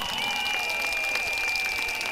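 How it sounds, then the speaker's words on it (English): A crowd at an outdoor campaign rally at a primary school gives a round of applause, a steady, moderately distant wash of clapping under a continuous high tone. "Can we give him a round of applause as well?"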